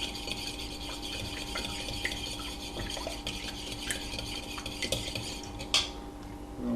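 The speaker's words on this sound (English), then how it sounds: "we'll get the oil and the egg to mix." A utensil clinks and scrapes against a bowl while egg and coconut oil are mixed for a paleo pie crust, with quick repeated stirring taps throughout and a sharper knock near the end, close and without talk.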